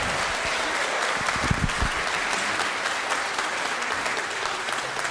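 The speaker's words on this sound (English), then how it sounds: "can you please make that round of applause much, much louder for Charlotte Roberts and the Convent choirs over here" An audience applauds a convent choir at a Christmas concert, a loud, dense and steady wash of clapping from a full hall that runs without a break, with no voices on top.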